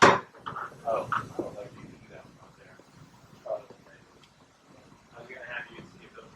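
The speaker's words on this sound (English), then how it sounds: "Close the doors." The doors of a BPA Cubemaster 300i machine are shut with a sharp, loud clunk at the start, followed by quieter knocks and rattles while someone talks.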